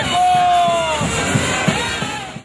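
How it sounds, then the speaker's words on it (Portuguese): Dense carnival street crowd of the Bloco do Magão in Caicó, a loud, close mass of voices with shouts and whistles, plus a few sharp thuds. "o bloco do Magão reúne uma multidão"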